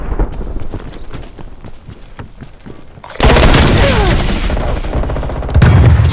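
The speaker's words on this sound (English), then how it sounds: "Stun grenade out." A stun grenade detonating in Call of Duty Black Ops Cold War multiplayer, a sudden loud blast followed by a sustained ringing, noisy wash, after scattered footsteps and gunfire.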